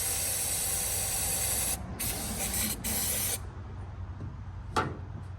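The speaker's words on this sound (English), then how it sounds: "I think I'm gonna spray it with a little bit of starting fluid just to help it out." Continuous close hiss of starting fluid sprayed from an aerosol can into the engine of a 1923 Franklin Model 10, with brief interruptions before the spray stops and a faint clunk follows.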